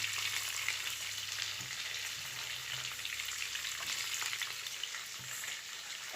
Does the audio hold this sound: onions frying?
yes